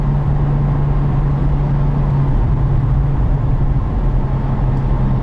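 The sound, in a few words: 2012 Porsche 911 Turbo S Cabriolet engine accelerating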